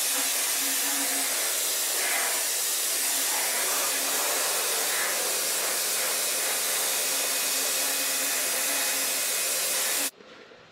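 A spray gun lays a thin white coat of paint on a Peugeot 406 taxi roof sign, giving a steady, close hiss for about ten seconds before it cuts off abruptly.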